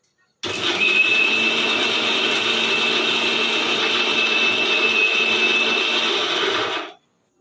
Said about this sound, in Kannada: ಈಗ ನಾನು ರುಬ್ಕೊಂಡ್ಬಿಡ್ತೀನಿ